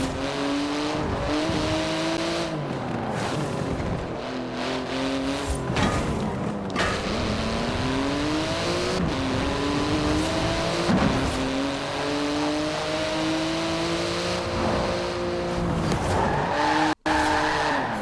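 A Porsche GT2 RS howls through repeated hard upshifts in Forza Horizon 4, the engine note climbing and dropping again and again, loud and close, with tire squeal mixed in.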